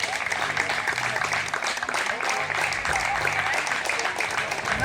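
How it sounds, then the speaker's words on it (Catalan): An audience at the Pinyol d'or contest in Arenys de Munt applauds a first-place winner with a steady wash of clapping throughout, while a voice talks over it. "t'endús sobretot el nostre afecte i un aplaudiment ben gros per part de tots"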